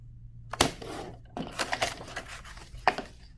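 A paper trimmer slices cardstock with a few sharp clacks and short cutting swipes, close and fairly loud, spread over a few seconds with no talking.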